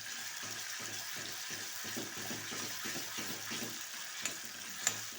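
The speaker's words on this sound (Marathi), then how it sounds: "आता चांगला परतू देते, म्हणजे मिरचीचा कचवटपणा नको राहिला त्याच्यात" Green chili thecha with onion and tomato frying in a pan, a steady soft sizzle running throughout with faint stirring scrapes and a couple of light clicks near the end.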